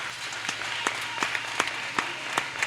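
An audience applauds the church patriarch at a Christian service, a steady wash of many hands clapping at moderate volume, with a few sharper individual claps standing out now and then.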